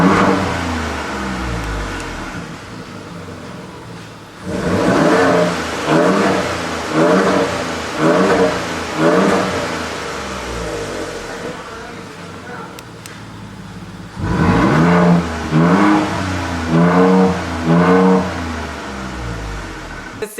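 A 2021 Ford F150 Raptor with a Velocity AP exhaust, valve open, heard from inside the cab: two loud clusters of sharp revs, each a quick run of rising and falling bursts, separated by a steady idle drone.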